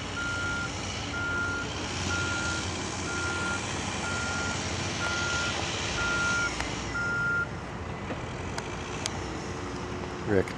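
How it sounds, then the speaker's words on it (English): Truck reversing at a hazmat training site, its steady evenly spaced beeps repeating for several seconds over a bed of outdoor engine and road noise, moderately near. "Truck."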